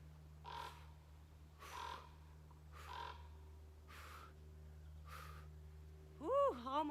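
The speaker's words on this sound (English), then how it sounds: "Hello, Mr. Raven." A raven calls five times in harsh, evenly spaced caws from a moderate distance, followed by a brief burst of a human voice at the end.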